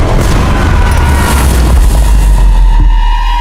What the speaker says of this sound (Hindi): बेसिलिका के साथ साथ इसे बनाने वाला इंजीनियर ओरबन भी इसके फटने से फौत हो गया